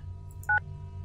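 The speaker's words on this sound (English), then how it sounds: "And of course it makes phone noises because, sure, why not?" In the Tex Murphy: Under a Killing Moon video game, a single short DTMF phone dialing beep sounds clearly over a low background hum.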